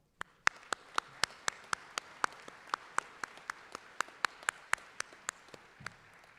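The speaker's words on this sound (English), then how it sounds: "So please join me in giving them a round of applause." Commencement audience applause at Rockingham Community College, heard as sparse, evenly spaced claps that read more like a single nearby clapper than a full crowd, steady for several seconds without voices.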